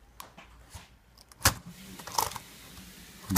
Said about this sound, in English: slide the keyboard in,